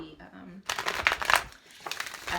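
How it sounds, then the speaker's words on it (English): A large tarot deck is shuffled in sections, giving bursts of crisp riffling card noise over about two seconds, close and moderately loud, with no talking. "I'm having to shuffle this one in sections because it's a little big"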